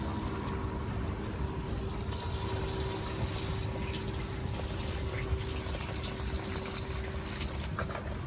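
Rinse water from washed rice poured out of a cooking pot at a bush campsite, a steady continuous splashing gush lasting several seconds, fairly close and without talk.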